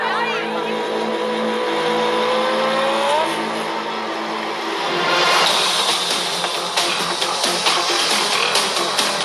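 A racing motorcycle engine with a jammed throttle, gunning toward a crowd at a race: loud, sustained high revving with rising pitch and a rough, noisy roar filling the whole stretch.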